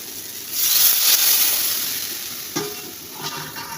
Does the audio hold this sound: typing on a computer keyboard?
no